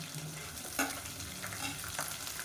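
Small whole onions frying in oil in a pan for a plain fish-style fenugreek curry, a steady soft sizzle with occasional spoon scrapes and stirring clicks, close but fairly quiet.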